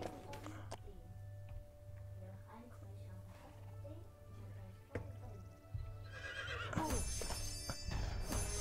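Horse neighing in the game LEGO Worlds, a whinny with clip-clop hooves over a low steady game hum, followed by brighter in-game chimes toward the end.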